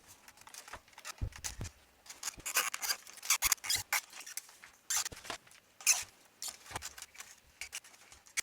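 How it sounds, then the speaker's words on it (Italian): Small bag of D'Addario ProSteels steel guitar strings being opened up close: quiet crinkly plastic rustling and scratchy handling noises in irregular bursts, with no talk. "Apriamo il sacchettino che contiene le corde"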